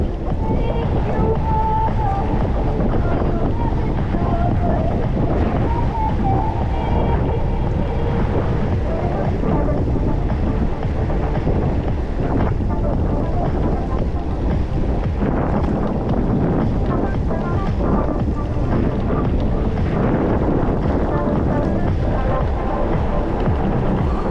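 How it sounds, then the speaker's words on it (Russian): Strong gusting wind buffets the microphone steadily for the whole stretch on a spring coastal road trip in Crimea near Sudak and Koktebel, with a low roaring rumble and no clear talk. "Да, ветерок поддувает, нехилый такой."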